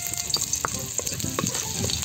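Ginger sautéing in hot oil, a close steady sizzle with a few soft stirring taps over a brief moment.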